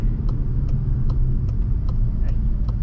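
An AWD Skoda Superb 206 TSI SportLine in sports mode gives a steady, close engine hum from inside the car, with faint, evenly spaced ticks running through it and no talking.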